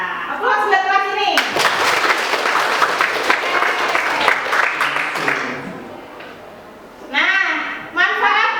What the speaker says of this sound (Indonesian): Aplaus buat kelas ini.